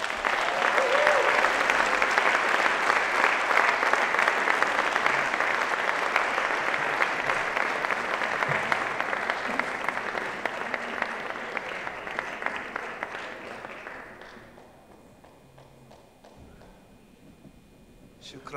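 An audience applauds to welcome Professor Sandy Tolan at a talk on the Palestinian-Israeli conflict. The clapping is dense and steady, then fades over the last few seconds and ends in a quiet tail.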